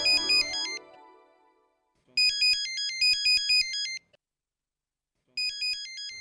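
A phone rings with a bright electronic ringtone in repeated trilling bursts separated by pauses, loud and close.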